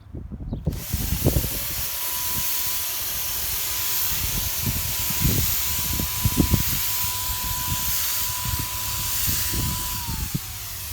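Airless paint sprayer coating wooden bee equipment, producing a loud continuous hiss that starts abruptly and holds steady, with faint low thumps of handling beneath it and no talk.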